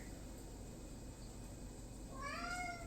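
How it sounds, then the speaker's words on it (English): A pet cat named Pumpkin lets out a single short meow near the end, fairly faint against a quiet kitchen room background with low hum. "you hear my cat?"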